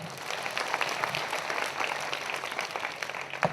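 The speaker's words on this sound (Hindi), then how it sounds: "जोरदार ताली परमेश्वर" Steady, dense applause from a crowd at a prayer meeting, even and sustained throughout, with no talking over it.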